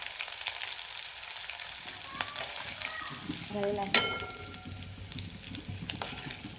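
Garlic fries in oil as chili powder goes in, a soft continuous sizzle with scattered stirring clicks and one sharper clatter midway, close and fairly quiet.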